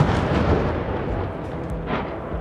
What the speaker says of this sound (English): We are hearing a series of explosions taking place at this